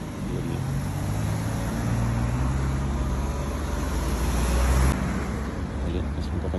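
A bus moving in busy city traffic on Orchard Road, Singapore, with a steady low engine rumble and road noise throughout, swelling briefly as it passes close by.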